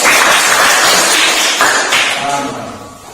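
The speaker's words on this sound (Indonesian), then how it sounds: "kita berikan tepuk tangan kepada kelompok" A classroom of students claps for a student group, a loud, dense burst of applause that slowly fades toward the end.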